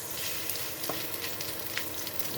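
Meatballs (Frikadellen) sizzle steadily in a frying pan, a continuous close crackle of hot oil with occasional louder pops and no talking.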